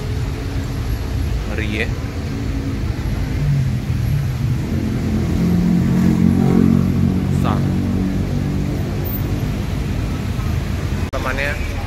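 A long, empty Isuzu truck rumbles through heavy, jammed traffic outside a bus ticket office in Palembang, a continuous low engine drone with nearby vehicles passing, while someone talks over it.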